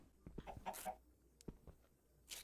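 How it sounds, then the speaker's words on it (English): A chicken in modded Minecraft (TerraFirmaCraft TNG 1.12.2) gives a few faint, short clucks amid quiet game sounds and scattered soft thumps. "this chicken"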